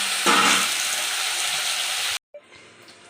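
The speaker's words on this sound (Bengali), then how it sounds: "মাছ কটা ভেজে নিই" Seloti fish fry in hot oil in a Bengali home kitchen, a loud crackling sizzle that flares at the start and then holds steady before cutting off abruptly, followed by faint clinks.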